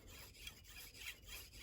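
A card scraper is rubbed back and forth against a sharpening surface, giving a faint, rhythmic rasping scrape with about five strokes and a slight squeak on some passes.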